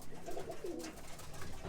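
Roller pigeons coo softly inside a loft, a few low, rounded coos rising over a quiet, steady room background with no voices.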